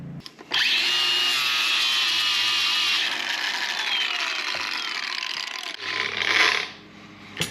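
A grinder works a flat metal disc with a loud, sustained high whine and rough scraping that runs for several seconds, then bogs and eases off near the end.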